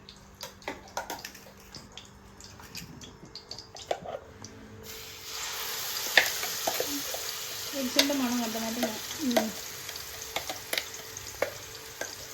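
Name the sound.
ground mushroom curry paste sautéing in hot oil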